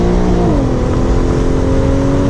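An Infiniti Q50 with an EcuTek tune revs, its exhaust giving a loud continuous drone that rises in pitch and then settles into a steady hum, heard close with no talking.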